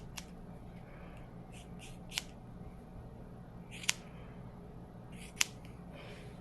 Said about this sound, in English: I'd rather go too long on the ears and then trim it back.